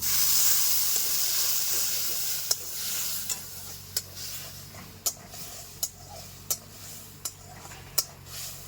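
Masala of Kashmiri red chili powder, black pepper powder, salt and a splash of water sautéing for a Japanese fish curry, with a steady soft sizzle under a regular series of sharp spoon scrapes and taps against the pan.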